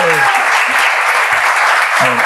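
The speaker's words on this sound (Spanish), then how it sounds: "Un aplauso, Dianita." Loud, dense applause for Dianita during a back-pain health presentation, with a voice speaking briefly through the steady roar of clapping.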